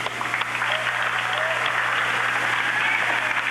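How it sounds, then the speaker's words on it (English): A high school gym crowd at a senior night basketball game applauds for the students' parents with steady, dense clapping that holds throughout, a few faint voices mixed in. "Let's give these parents a round of applause."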